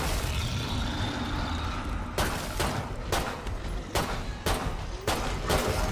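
Single 9mm pistol shots in the zombie shooter Killing Floor 2, six or so sharp cracks fired at an uneven pace over a dense, noisy backdrop of game sounds.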